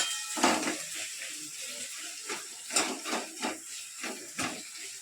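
Onions frying in oil in a kadai for chicken kosha give off a faint, steady hiss of sizzling, broken by a few soft clinks of a utensil against the pan.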